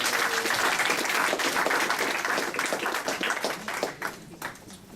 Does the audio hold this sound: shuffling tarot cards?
no